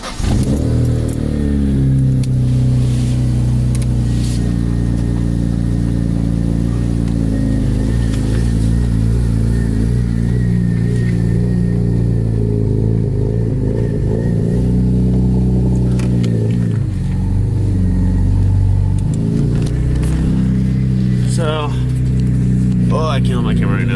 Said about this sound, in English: I'm about to start my car and wake up all my neighbors in my apartment building.